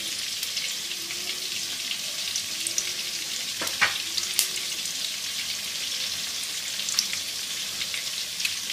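White cooking oil heats in a wok for vegetable fried rice, giving a steady, even sizzle and crackle with a few sharp pops and light clinks; no one speaks.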